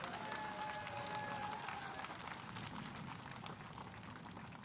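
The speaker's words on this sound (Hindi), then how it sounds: "एक बार जोरदार तालियों से हेमंत बिस्वा जी का आप स्वागत करें" A large outdoor rally crowd at a public meeting in Jodhpur, Rajasthan applauding loudly to welcome Himanta Biswa, sustained dense clapping and cheering that slowly fades over several seconds.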